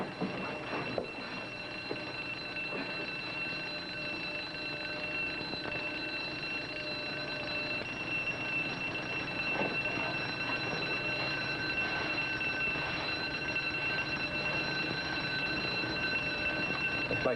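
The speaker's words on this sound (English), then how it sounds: "I'd better turn off the alarm." An electronic mineral detector's alarm rings in a 1940s radio drama, a steady, shrill electric ringing tone that holds throughout at moderate level with faint rustling and knocks beneath, no speech.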